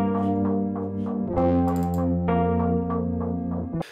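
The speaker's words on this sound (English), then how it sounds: "This is the electric piano sounds run through a longish reverb with a ton of overdrive and a rhythmic auto filter set on the 8th note." Electric piano chords run through a long reverb, heavy overdrive and an eighth-note rhythmic auto filter, giving a distorted, sustained tone that pulses in a steady gated rhythm, with no voices.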